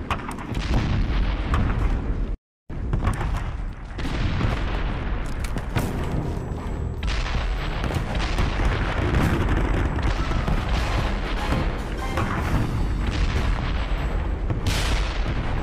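Cannon fire in the video game Call of Juarez: Bound in Blood pounds in a loud, dense barrage of booms and blasts, broken once by a brief silence, then rolling on continuously without speech.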